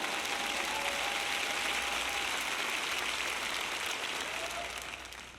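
A church congregation applauds at a sermon, with dense, sustained clapping that holds steady for several seconds before starting to fade toward the end. No voices are heard over it.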